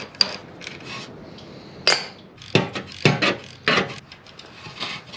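Ratchet loosening bolts on the front plate of a Ford injection pump, a series of sharp clicking bursts and metallic taps, close and uneven, with no talking.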